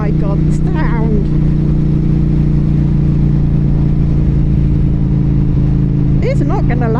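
A 2023 Norton Commando 961 SP, a classic-styled British motorcycle, ridden in British weather: a loud, steady engine drone with rushing wind noise throughout and a couple of brief vocal sounds.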